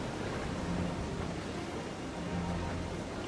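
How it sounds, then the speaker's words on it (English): A thunderstorm at sea in the Assassin's Creed 4 Black Flag video game, with a steady, dense wash of rain and wind and low rumbling underneath, continuous throughout with no voices. "We'll retreat through the storm!"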